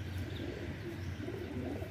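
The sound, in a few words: pigeon cooing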